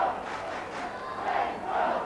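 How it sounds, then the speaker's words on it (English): Roaring football crowd in an Australian rules match between Central and Sturt, a steady loud mass of cheering and shouting that swells toward the end, with no talk over it. "So now the crowd is alight."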